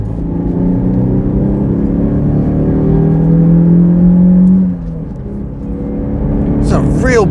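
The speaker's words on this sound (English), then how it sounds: "it's a real booming induction roar." A Citroën C4 warm hatch engine drones with a deep, booming induction roar, steady and loud, then dips briefly before building again; a voice cuts in near the end.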